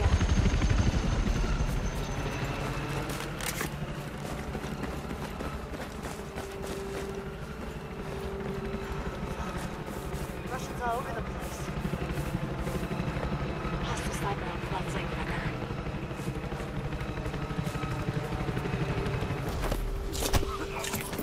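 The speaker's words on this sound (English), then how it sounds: "Incoming helo." A helicopter approaches in the video game Battlefield 4, its loud continuous rotor thrum and engine whine running under dense combat noise, with sharp gunfire bursts cutting through and players talking over it.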